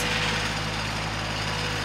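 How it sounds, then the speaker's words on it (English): A snow blower clearing snow in winter gives a steady, fairly faint mechanical engine drone with a constant low hum, running unbroken through the clip with no talk. "Like lawn mowing in the summer, it's snow blowing in the winter."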